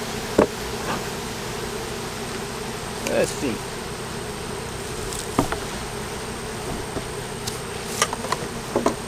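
A loud, steady insect hum from many honeybees in an open single brood box hive fills the air, with occasional brief knocks and a short spoken remark.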